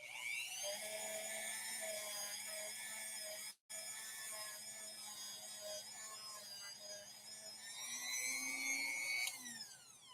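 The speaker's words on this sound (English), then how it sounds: "let's clean off our Dremel head again" A Dremel rotary tool with a wire brush whines steadily at high pitch while cleaning a rusted, mold-frozen Featherweight sewing machine part, cutting out for a split second and then rising in pitch toward the end; no talking.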